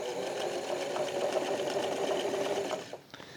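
A sewing machine stitching a yoke runs steadily and close for about three seconds with an even mechanical whir, then stops, leaving a few faint clicks.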